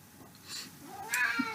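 A cat gives a short, soft meow, a thin rising cry heard once, close by in a quiet room.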